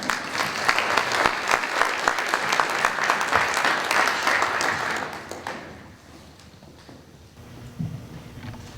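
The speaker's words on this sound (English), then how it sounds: "give her a round of applause" An audience at a neighborhood grant event claps in a full, dense round of applause that holds steady, then thins and fades out into a quiet room with a few stray claps.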